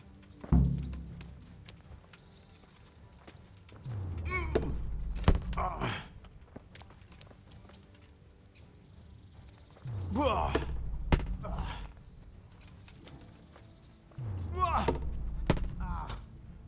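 Medieval sword sparring in the video game Kingdom Come: Deliverance comes in three or four separated bursts of heavy clashing blows and thuds, loud and close, with grunting voices between quieter pauses.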